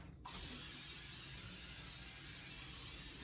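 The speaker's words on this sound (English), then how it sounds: "Let's spray our pan." A continuous aerosol cooking spray hisses steadily onto a pan for about three seconds after a brief quiet moment, close by and fairly loud.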